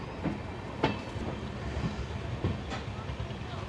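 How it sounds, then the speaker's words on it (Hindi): Express train 14624 pulling out of platform 3 at an Indian railway station, a steady rumble with a few distinct clacks of wheels over rail joints, close and continuous. "चलिए 3 नंबर प्लेटफॉर्म से अपनी गाड़ी का डिपार्चर होता हुआ शेराडा रेलवे स्टेशन से।"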